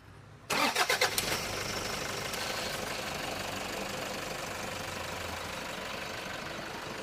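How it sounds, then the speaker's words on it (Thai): A 2011 Toyota Hilux Vigo 3.0 diesel pickup engine cranks with a few rapid knocks, catches, and settles into a steady rumbling idle, close by. "เดี๋ยวมา สตาร์ทฟังเสียงเครื่องดูว่าเป็นอย่างไรบ้างนะครับ"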